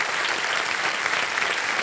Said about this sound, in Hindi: एक बार जोरदार फिर से ताली बज जाए इनके लिए